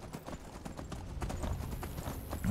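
Horse hooves clip-clop steadily as a rider travels along a road in Skyrim, a brisk even gallop rhythm, close and continuous.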